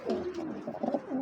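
Racer pigeons at a farm loft coo in low, throaty burbles, close and clear with no talk over them.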